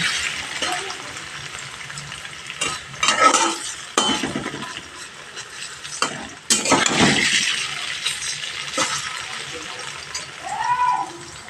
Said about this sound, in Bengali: পানির ভাজা হয়ে গেছে